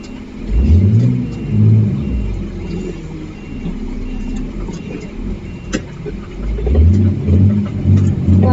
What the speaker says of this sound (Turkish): Tatlı motor sesi.